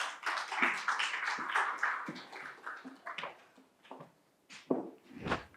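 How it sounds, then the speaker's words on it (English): An audience claps to welcome a speaker, a scattered burst of handclaps that thins out midway, then a few final louder claps, fairly close and with no talking. "Please welcome him with an applause"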